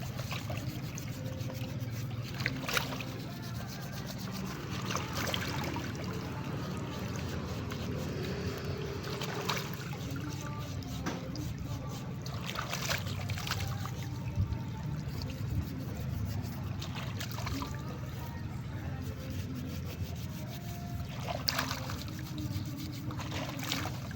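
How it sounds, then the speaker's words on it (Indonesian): River water trickles and flows steadily throughout while something is washed in it, a soft continuous wash with faint, irregular splashes and no talk. "Dicuci di sungai."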